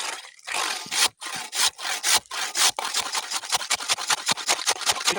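A new hand saw rasps through thick wood in repeated strokes, slow at first and then quicker and shorter, close and clear.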